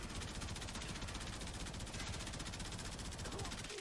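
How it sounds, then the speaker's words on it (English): Rapid automatic gunfire from the Kuva Karak Wraith rifle in the Warframe video game, a steady continuous stream of evenly spaced shots sounding dense and fairly quiet throughout, with no pause. "So how quickly does the Karak Wraith take down these guys?"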